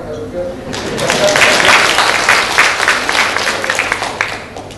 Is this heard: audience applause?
yes